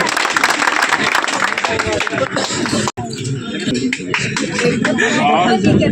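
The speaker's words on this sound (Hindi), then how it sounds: "जोरदार ताली सुनील कुमार के लिए" An outdoor crowd applauds a half marathon winner, steady clapping running under a loud announcer's voice, with a brief drop near the middle before the clapping and talk carry on.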